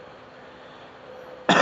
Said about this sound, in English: it sounds like you got a little bit of cough